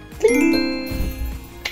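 A notification bell sound effect, a bright two-tone ding-dong chime with ringing overtones, clear and close, followed by a soft thump and a faint extra tinkle at the end.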